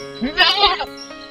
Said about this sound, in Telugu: వరుణుడు మేకలు మేపేందుకు వెళ్ళాడు